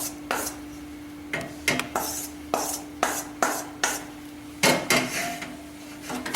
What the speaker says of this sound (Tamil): இப்போ மிளகாயில் போட்டு இப்படி கிண்டி விட்டிங்கன்னா